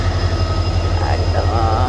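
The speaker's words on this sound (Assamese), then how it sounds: "ফাইনেলি আহি গ'ল দেখুৱামকৈ ৰৈ থকা সেই ট্ৰেইনখন" A train arrives at a railway station in Jorhat, Assam, a loud, close, steady rumble of wheels and carriages with a faint squeal near the end.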